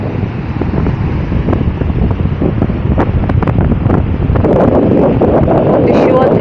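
Sea waves wash onto the shore in Fukuoka under gusting wind, a loud rough rumble dominated by wind buffeting the microphone, with the surf swelling stronger toward the end.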